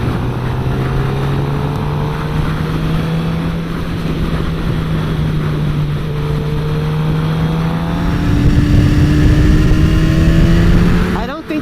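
A 2016 Suzuki GSX-R 750 sport motorcycle engine drones steadily while riding, its pitch climbing through gears and rising louder near the end with brief revving.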